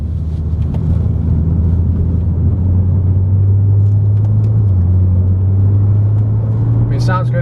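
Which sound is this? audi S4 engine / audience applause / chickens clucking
audi S4 engine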